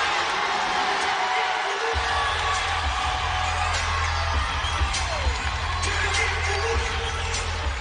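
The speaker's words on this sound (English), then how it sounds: "this big crowd getting a little bit louder in Oxford" A big crowd fills a women's college basketball arena in Oxford during the South Carolina at Ole Miss game, a broad, sustained roar with scattered whoops and bangs that grows more intense through the stretch.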